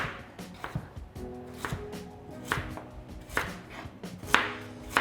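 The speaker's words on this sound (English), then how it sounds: "we're going to just chop this into 1-inch cubes" Knife chopping a sweet potato into one-inch cubes on a cutting board, a steady run of close, sharp knocks of blade against board, with no talking.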